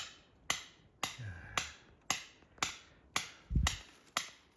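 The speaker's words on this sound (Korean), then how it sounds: "망치질을 열심히 하고 있습니다" A hammer strikes outdoors while bellflower roots are dug from the ground, sounding as sharp regular knocks about twice a second, close and crisp, with a couple of duller thuds between blows.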